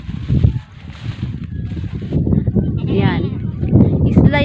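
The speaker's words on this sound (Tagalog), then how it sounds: "Meron pa ditong kambing, guys." Goats on a farm plot on Mambacayao Island, Bantayan, Cebu, bleating in short wavering cries near the end, with people talking loudly over them throughout.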